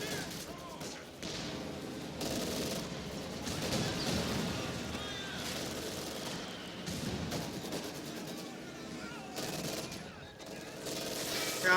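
Machine gun fire and other battle sounds in Company of Heroes 2 on the Semoisky Winter map, a dense, steady clatter of bursts and distant blasts, with a player's voice intermittently over it.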